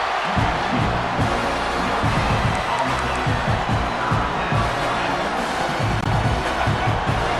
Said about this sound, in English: And the crowd coming to life here trying to help